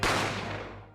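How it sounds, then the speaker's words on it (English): A single loud gunshot from the video game The Great Ace Attorney: one close, sharp blast that rings out and fades over about a second, with no other sound. "I didn't have time to think about where the sound of the gunshot had come from."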